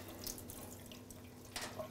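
Water runs from a water filter drain line while air bubbles are purged, a steady soft hiss and gurgle with a couple of brief splashy spurts, faint and close.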